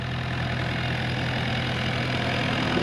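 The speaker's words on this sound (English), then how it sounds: "I've got the Kubota with Mulching" A Kubota tractor fitted with a mulcher idles nearby, giving a steady, loud, unchanging engine drone with a low hum and no speech.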